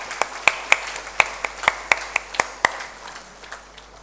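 A handful of people at a VIT Vellore Stars Day event clap in sparse, uneven bursts, the sharp individual claps loud and distinct, tapering off after a few seconds.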